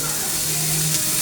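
Sliced onion hitting hot oil in a pan, a loud, dense continuous sizzle with a steady hiss throughout, close up and alone.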